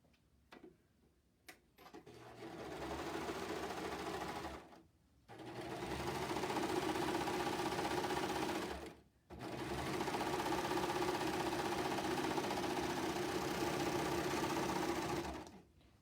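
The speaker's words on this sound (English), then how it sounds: "so now I've got the bottom of my sleeve clean finish with the serger" A serger overlock machine clean-finishes a sleeve hem in a sewing project, running in two long steady buzzing bursts with a short pause between, close and fairly loud after a few faint clicks at the start.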